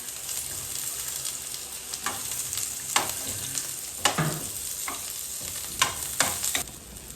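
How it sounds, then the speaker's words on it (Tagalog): Onion and garlic sauté in a hot pan, a continuous sizzle broken by several sharp scraping stirs of the spatula at irregular intervals, close and fairly loud with no talk. "Magigisa na ako. Mainit na ito."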